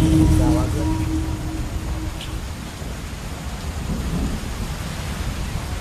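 A thunderstorm rolls over an Amazon village, a deep thunder rumble at the start fading into steady, heavy rain on surfaces, with faint voices chanting beneath.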